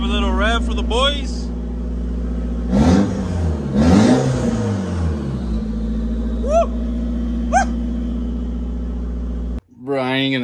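A Nissan 240SX with an SR engine, running only a downpipe and test pipe as a blast pipe, idles with a deep rumble and is revved hard twice, loud and close, with brief voice sounds over the engine before it cuts off.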